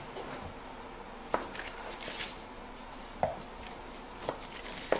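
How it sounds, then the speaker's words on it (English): A knife chops food into cubes on a board in a home kitchen while baking iced buns and cookies, giving a few sparse, sharp thuds spaced a second or two apart, close and fairly quiet, with no speech. "I'm just going to chop this up"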